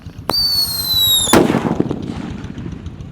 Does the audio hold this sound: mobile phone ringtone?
no